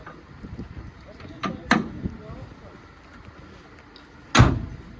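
An ambulance hood is shut during a routine weekly vehicle inspection, with a few light clunks and then one sharp, loud slam near the end in a quiet space.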